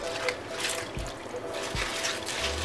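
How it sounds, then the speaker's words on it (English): Bok choy being washed in a small strainer colander, like a spinner basket, with water trickling and splashing steadily throughout at close range. "it's time to wash the bok choy"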